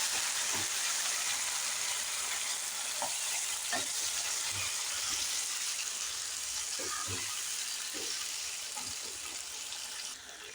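Finely chopped tomato pieces fry in a pan for a cashew-tomato curry, giving a soft, steady sizzle with a few light stirring knocks throughout.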